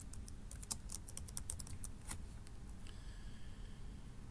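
A computer keyboard clicks through a quick burst of close keystrokes while a password is typed, then quiets under a low steady hum.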